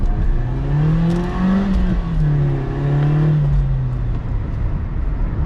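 A Mercedes CLK engine revs and accelerates up close, its pitch rising and falling in long sweeps with steady road noise underneath.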